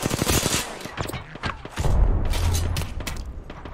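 Rapid automatic gunfire in Apex Legends, aimed at a tank: dense, loud bursts of shots with a heavy low boom near the middle and continued firing afterward.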